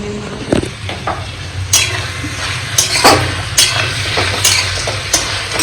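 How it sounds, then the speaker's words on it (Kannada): Food sizzles in hot oil in a pan while a utensil stirs and clinks against the metal, close and loud with repeated sharp scraping strokes, during home cooking of potato chips and paneer. "ನೀವು ಹಿಂಗೆ ಹುರಿದು ಮಾಡ್ತೀರಿ"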